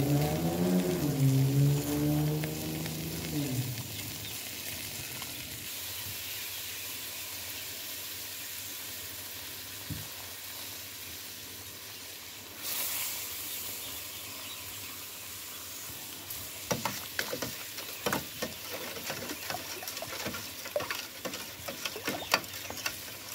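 Sugar caramelizes in a hot pot for the Samoan dessert fa'ausi, made with hot rock coconut caramel, with a faint sizzle and quiet, irregular scraping and stirring clicks that grow busier toward the end.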